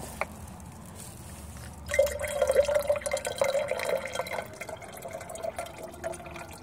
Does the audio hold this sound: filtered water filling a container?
yes